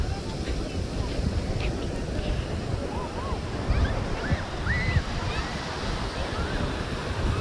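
Sea waves surge and break on a shore in a continuous rushing wash, with wind buffeting the microphone and someone talking over the surf now and then.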